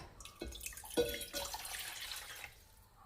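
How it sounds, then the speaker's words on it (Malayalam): A cup of water is poured into a cooking pot for a traditional home remedy for sore throat and dry cough, a quiet, close trickle and splash lasting a few seconds, with no talking. "ഇനി നമുക്ക് ഇത് ഈ പാത്രത്തിലേക്ക് ഒരു കപ്പ് വെള്ളം ചേർക്കാം"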